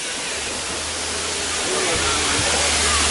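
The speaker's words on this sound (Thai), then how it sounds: "มาดูน้ำตกกัน" Rushing water from Sai Yok Noi waterfall in Sai Yok district, Thailand, a constant loud hiss of falling water with a low rumble beneath that swells slightly near the end.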